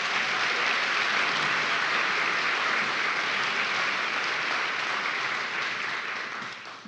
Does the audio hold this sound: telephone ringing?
no